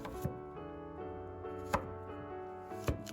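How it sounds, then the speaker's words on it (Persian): A knife chops carrots on a board in a few separate, crisp knocks spread over a few seconds, heard over soft background music. "تا پیاز داشت تفت می‌خورد 3 عدد هویج رو نگینی ریز خورد کردم"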